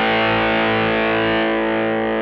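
An electric guitar sustains a chord through a distortion effect programmed on a Sigma DSP ADAU1452, the buzzy, saturated tone ringing steadily and loud without pause for the whole stretch.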